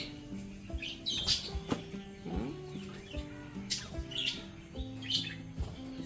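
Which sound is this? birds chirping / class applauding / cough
birds chirping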